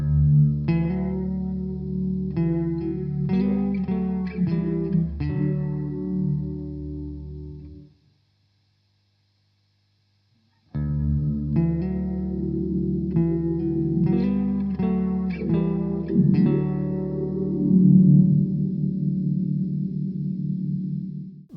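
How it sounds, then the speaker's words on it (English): Electric guitar played through a Cirrus reverb pedal set to a long, cavernous decay. Chords bloom into a wide, sustained wash that rings on, then a few seconds of silence before the phrases resume, with the last notes swelling into a thick tail. "The decay knob just here determines how long the reverb is. And you can go from short and roomy to big, cavernous and spacious."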